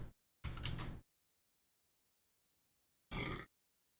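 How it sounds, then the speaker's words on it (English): Two separate burps from a person, a longer one and then a shorter one after a pause, close and fairly loud with quiet in between. "Sorry for burping."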